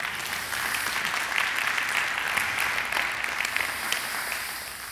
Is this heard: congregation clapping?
yes